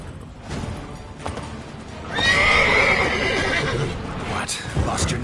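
Roach the horse from The Witcher 3 gallops with rapid hoofbeats, then lets out a loud, drawn-out neigh in the middle. A voice speaks over the running hooves.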